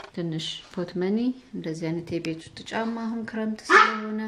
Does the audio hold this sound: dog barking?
yes